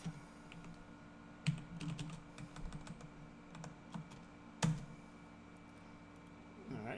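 Keys tap on a computer keyboard in scattered bursts while creating a file, the clicks sparse and fairly faint, with a couple of louder thumps and quiet talk underneath.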